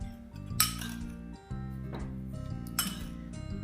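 Sugar being added to coffee for a coffee-cream ice pop, with a spoon clinking sharply against a dish a few times over steady background music.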